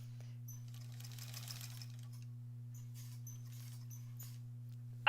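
A quilting machine stitches through a granny squares quilt with a steady motor hum and faint rapid needle chatter, running evenly and close throughout with no talking.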